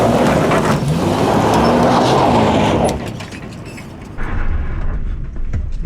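Toyota Tacoma pickup crawling off-road in two-wheel drive, engine drone and loud rumbling rolling noise that drops off midway then returns, close with no talk.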